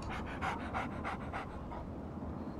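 Steady rhythmic panting of the dog companion Dogmeat in the video game Fallout 3, quick breathy huffs repeating close up with no speech.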